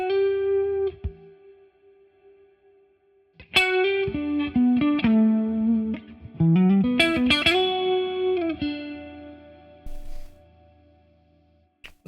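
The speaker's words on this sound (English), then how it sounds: "I just want this clean sound to be almost like a synth pad type sound, so I really want to crank that reverb up" Clean electric guitar run through a PolyChrome DSP HyperRig with very large reverb, sustained notes and chords swelling into long, washy, pad-like tails, with gaps where the reverb fades away.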